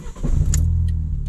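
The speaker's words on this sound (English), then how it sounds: "Here's the new exhaust startup" A Fiat Punto Evo with a new exhaust starts up: a brief starter crank followed by a steady, low, throaty idle settling in close by.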